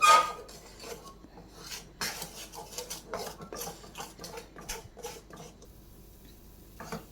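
Peda mixture being stirred nonstop in a pan on the flame, a steady run of scraping, clinking spoon-on-metal strokes at close range with no voices.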